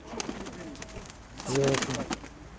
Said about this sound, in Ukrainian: О, такий хороший голубок.